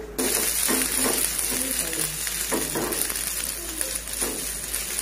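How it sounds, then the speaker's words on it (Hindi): Half a chopped onion sautéing lightly in a pan, a steady close sizzle with faint stirring and scraping throughout, no talk over it. "ये हाफ प्याज ली थी मैंने, इसको हम फ्राई कर लेंगे। बस सौते करना है"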